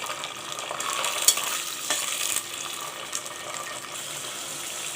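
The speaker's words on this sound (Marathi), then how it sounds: "तोंडली छान तेलात परतून झाली" Ivy gourd sautéing in hot oil gives a steady close hiss with scattered spatters and a few scraping stirs, with no talking.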